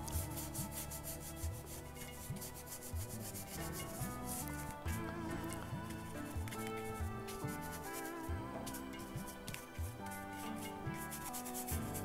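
A brush scrubs oil paint stain into canvas in quick, repeated rubbing strokes, a close, soft, textured scratching that carries on steadily without talk.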